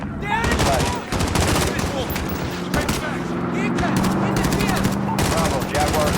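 Gunfire from the video game Modern Warfare, in an embassy defense mission, cracks in rapid automatic bursts and repeated loud shots, with voices talking over the shooting.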